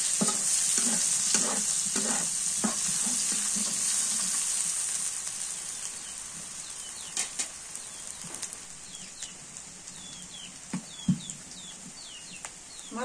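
Black cardamom pods go into a pan of hot fat with a steady high sizzle and scattered scraping stir clicks, and the frying settles quieter toward the end.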